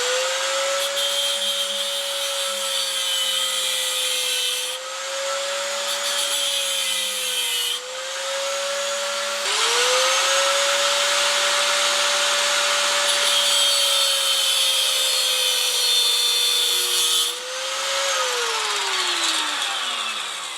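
Sawzall blade being cut down to length with a high-pitched whining power tool, a loud continuous grinding drone with a few brief pitch dips and pauses over about twenty seconds.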